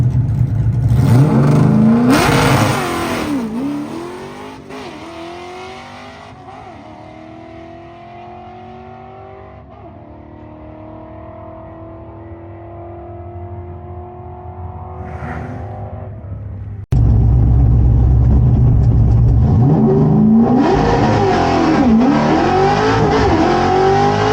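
Ford Torino GT drag car on 26x10 rear slicks making its first pass of the year, engine loud and close as it revs hard, drops back through the gears, then roars again at full throttle.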